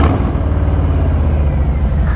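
A Harley-Davidson Softail Standard with Vance & Hines pipes pulls away after the clutch is let out, a loud, steady, deep engine rumble sounding up close throughout with no talking.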